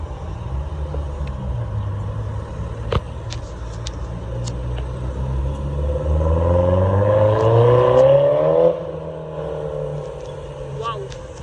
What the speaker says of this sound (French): Oh, le retour d'échappement. Il y a encore la Aston Martin AMR